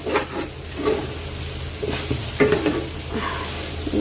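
A filling frying in a cooking pot and being stirred: a steady sizzle with repeated scraping stir strokes, close and fairly loud, with no voices.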